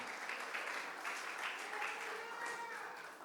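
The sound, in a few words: congregation clapping hands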